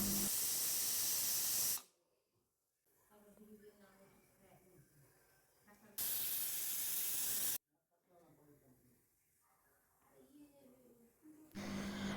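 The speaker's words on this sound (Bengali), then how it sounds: "এখন প্রেশারটা বসিয়ে দেবো জাস্ট দুটো সিটি দিলেই যথেষ্ট" A pressure cooker full of Indian olives for chutney releases two loud bursts of hissing steam, each lasting a second or two. A voice speaks quietly in the gaps, and a third hiss starts at the end.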